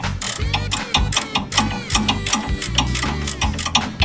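A ratchet works a rusted bolt loose on an old junkyard Ford Bronco, loud close bursts of rapid clicking strokes separated by short pauses, with no talking.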